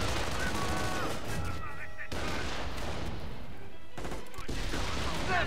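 Dense, continuous battle gunfire from the Company of Heroes: Tales of Valor strategy game, with rapid rifle and machine-gun bursts layered with heavier booms, loud and unbroken, alongside French-speaking voices.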